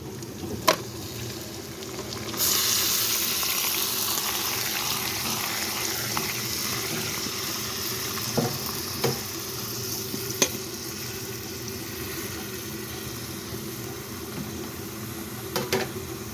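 Oil sizzles and fries steadily in a pan before chopped tomatoes go in for a chutney, a continuous close hiss with a few sharp pops and stirring clicks scattered throughout.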